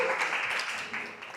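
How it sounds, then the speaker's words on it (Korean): An audience at a talk event claps steadily in a dense, even wash of applause to welcome a film director onto the stage, holding at a moderate level throughout. "여러분 박수로 모시도록 하겠습니다."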